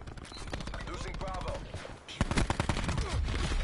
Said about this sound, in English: I just get shot from like 6 angles